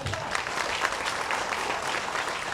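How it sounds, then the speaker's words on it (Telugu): An audience applauds at a Telangana political gathering: steady, dense clapping from a crowd, fairly close and even in level, with no voices rising above it. "ఈ సందర్భంగా మీరందరూ కూడా గట్టిగా చప్పట్లు కొడుతూ రేవంత్ రెడ్డి గారికి కృతజ్ఞతలు చెప్పండి."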